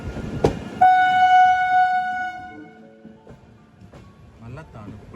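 A goods train locomotive arrives at Jhansi railway station, sounding one long, loud horn blast that fades into a low rumble, with people talking nearby.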